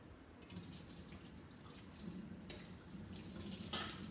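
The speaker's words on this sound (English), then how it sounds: "I'm going to dump out the hot water, and then I'm going to fill this up with cold water" Cold water runs from a kitchen faucet into a sink or pan while hard-boiling eggs, making a soft, steady hiss and splash, quiet and close, with small bumps and clinks along the way.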